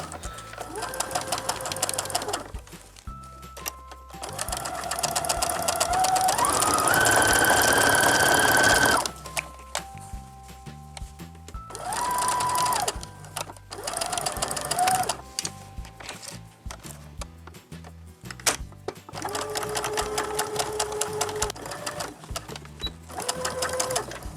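Sewing machine stitching the pleats of a fabric face mask, running in several loud close bursts with short stops between, its whirring pitch shifting between passes, with no talking.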